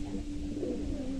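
A pet pigeon, a cage-kept bird being sold, coos softly and steadily in a low, continuous murmur, close by with no talk.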